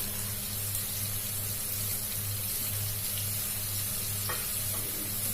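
Water spinach and bean sprouts stir-frying in a hot pan, a steady close sizzle with stirring scrapes and a low hum throughout, no voices.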